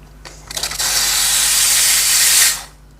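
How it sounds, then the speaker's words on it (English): A Quick Mill Rubino espresso machine's steam wand opens into a loud, steady hiss that holds for about two seconds, then cuts off abruptly, with a few faint clicks just before the steam starts. "let me show you the steam power on this machine"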